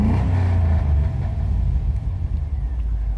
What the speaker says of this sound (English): So I'm gonna let it idle and then full throttle.